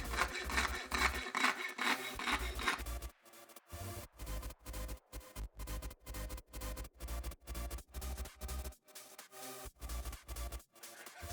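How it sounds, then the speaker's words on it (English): Coping saw cutting wood pieces for a Moorhammer slingshot: a dense rasping burst, then a steady run of rhythmic back-and-forth strokes, close and loud, with brief pauses between them. "So basically all the cutting will be done using the coping saw."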